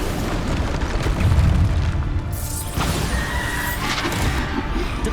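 A Bombarda spell exploding in Hogwarts Legacy, a deep booming blast rising out of dense game ambience, followed by a rushing debris-like roar.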